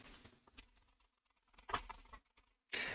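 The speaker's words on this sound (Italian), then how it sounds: "nel motore di ricerca andremo a digitare Gentiluomo Digitale per portarci sul sito del nostro canale" Quiet, irregular clicking of a computer keyboard as a search term is typed into a search engine, with bursts of keystrokes, short pauses and one louder final press, heard close.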